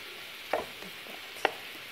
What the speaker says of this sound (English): And it fries in its own juices.